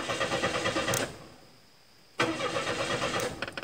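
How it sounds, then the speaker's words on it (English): A car's starter motor, engaged through the ignition wiring, cranks in two bursts of rapid, rhythmic churning separated by a pause of near silence, loud and close. "that's your starter."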